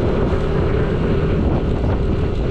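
Large sea waves at a white sand beach in Bolinao, Pangasinan, roar as a steady, loud wash of surf mixed with heavy wind buffeting the microphone throughout.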